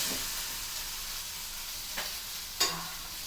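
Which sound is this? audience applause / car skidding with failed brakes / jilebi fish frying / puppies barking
jilebi fish frying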